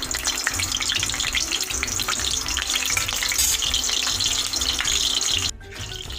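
Cinnamon, cloves and cardamom fry in hot oil for a country chicken gravy, a loud, steady sizzle and crackle held close throughout before dropping off sharply near the end.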